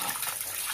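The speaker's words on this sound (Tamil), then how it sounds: "தண்ணி ஊற்றி இதை வந்து நல்லா வாஷ் பண்ணிக்கணும்" Tap water gushes steadily over fish pieces being washed for a country-style fish curry, a close, continuous splashing rush with no talk.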